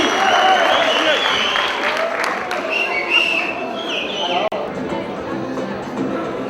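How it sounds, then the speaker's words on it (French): Audience applauding at a flag presentation, a dense sustained wash of clapping with crowd chatter and a few whistles mixed in, fading slightly toward the end. "Applaudissez-vous vous-même, allez, un partout."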